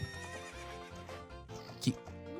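A horse being ridden, faint and distant, with a brief whinny-like burst near the end over a steady tonal background.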